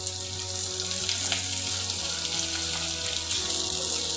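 Onions fry in a pan for a restaurant-style paneer butter masala, giving a steady, close sizzle with faint scrapes and clinks as they are stirred, with no voices over it.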